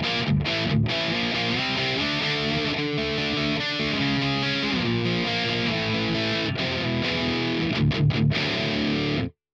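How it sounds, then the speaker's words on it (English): Heavily distorted electric guitar chords from a Marshall Valvestate 8100 amp's distortion channel ring out loud and sustained, with a few brief breaks near the end. "So here's the first type of distortion."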